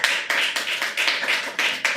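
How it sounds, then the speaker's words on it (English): At an L.A. book launch for the novel MADCAP, an audience applauds two people in a sustained, loud burst of many hands clapping together, close and dense, with no talk over it. "And a round of applause for Jim and Greg"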